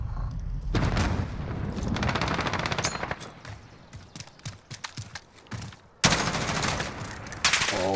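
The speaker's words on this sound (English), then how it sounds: "Two grenades!" Call of Duty Modern Warfare gunfire crackles in heavy automatic bursts, with a loud explosion boom near the end and more firing after it, busy and close with no talk.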